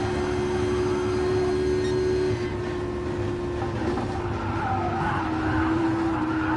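Race cars skid and bump against each other in a racing video game, with a steady engine drone, tire scrubbing and a few brief knocks in the middle of the run, loud and continuous with no talk.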